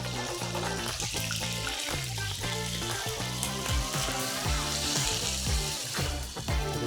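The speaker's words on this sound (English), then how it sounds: "But with the chicken, the oil splash." Chicken fries in hot oil in an Italian home kitchen, a loud, close, continuous sizzle dotted with crackling spatters and pops throughout.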